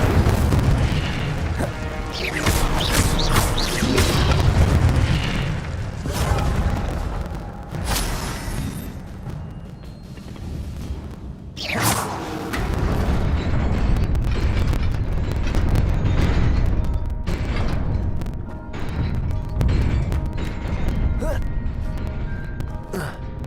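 Fire spell cast in Hogwarts Legacy, loud booming bursts and whooshing blasts repeating over a dense game soundscape, with gasps and brief character vocalizations among the impacts.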